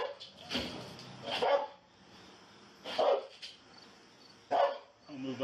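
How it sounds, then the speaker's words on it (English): A dog barking in sharp, loud bursts during a police encounter outside a building, roughly four barks spaced unevenly over a few seconds, with a voice talking between them. "That dog's gonna bite you if you don't come out."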